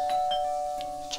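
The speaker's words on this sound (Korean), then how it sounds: "초인종 소리." Doorbell chime from the delivery game Love Delivery, a short electronic ding tone ringing alone with a sustained pitched note over its brief span.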